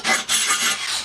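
A 3/4 inch drill bit bores into a truck's steel exhaust pipe to make a hole for an O2 sensor weld-in bung, giving a harsh, close grinding rasp in two sustained bursts with a brief dip between them.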